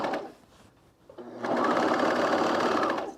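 A sewing machine stitches a fleece pullover, starting with a short whir, pausing, then running steadily and loudly close up for over a second and a half of continuous humming stitching.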